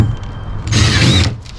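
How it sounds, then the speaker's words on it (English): A power drill pre-drills holes in wood during the install of a rotating solar motion sensor light. It gives one short, loud whirring burst of about half a second, with a steady background hum before and after. "Make sure you do pre-drilling."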